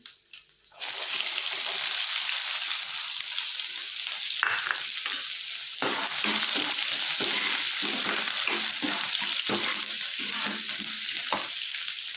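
Curry leaves and onion sizzle and fry in hot oil, a steady loud crackle with occasional stirring clinks and scrapes throughout.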